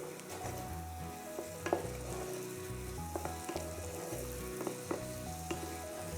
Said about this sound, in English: It's sizzling away nicely.